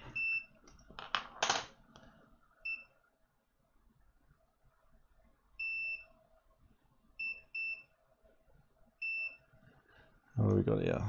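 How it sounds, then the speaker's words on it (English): A multimeter in continuity mode gives a series of short, fairly quiet electronic beeps at irregular intervals while probing an iPhone 6 logic board during Wi-Fi repair, over faint background noise. "I'll just chuck the multimeter on beep mode, and I will just check a few of these values"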